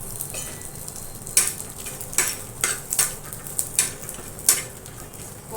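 Dry bombil fish fry in a little oil in a pan, giving a soft sizzle under sharp metallic taps and scrapes from a spoon stirring at irregular intervals.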